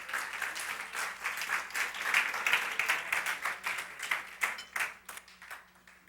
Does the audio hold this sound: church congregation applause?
yes